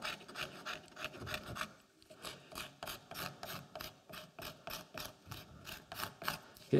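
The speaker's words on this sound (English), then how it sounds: "Here's a scraper. So you can use this to refine the handle," Hand scraper taking shavings off the handle of a carved wooden scoop, heard close and quiet as a regular run of short rasping strokes, about two per second.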